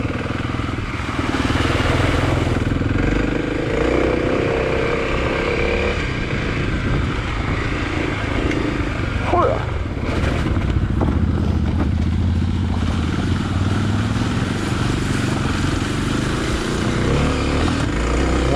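A WR dirt bike motorcycle rides along a dirt road, its engine droning loudly and continuously near the listener with rising and falling revs, wind and some clatter mixed in.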